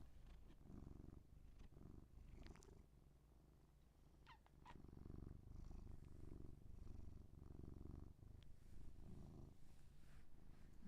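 A contented cat purring close to a microphone, a soft, continuous rhythmic rumble with slight breathy pulses, faint and alone without any talking.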